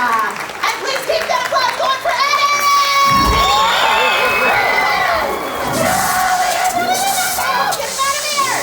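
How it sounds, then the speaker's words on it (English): An audience at a horror make-up show at Universal Studios Orlando cheering, shouting and whooping loudly with some clapping, many excited voices overlapping throughout. "please keep that applause going for Eddie!"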